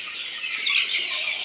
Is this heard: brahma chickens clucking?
yes